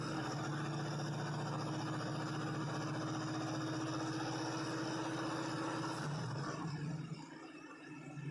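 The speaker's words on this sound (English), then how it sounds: "It's probably going to be a little too high as far as the idle goes" A Squarebody truck engine fitted with a Holley carburetor idles in a steady, close rumble for about six seconds, then the sound drops away and goes quiet.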